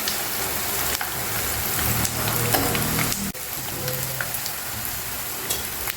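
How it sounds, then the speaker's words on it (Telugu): Spices, asafoetida and curry leaves frying in hot oil for a red chilli pickle chutney, a loud, continuous close sizzle with brief clatters of stirring and no voices. "చాలా చక్కగా వేగిపోయినాయి"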